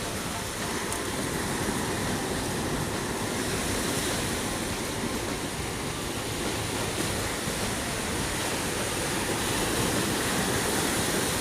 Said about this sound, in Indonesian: Ombaknya tidak terlalu besar